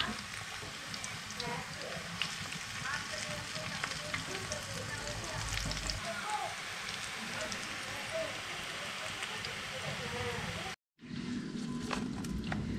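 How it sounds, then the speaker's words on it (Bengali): Pakoras frying in hot oil during home festival cooking give a continuous, close crackling sizzle that runs steadily, with a brief cut near the end before the frying resumes. "পকোড়া ভাজা শুরু হলো কি হলো না"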